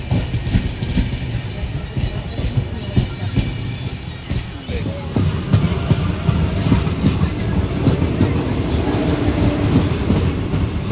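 A train rumbles past on the single-track Konkan Railway at a crossing, a steady loud roar of wheels and carriages with faint squeals, continuous throughout and close by.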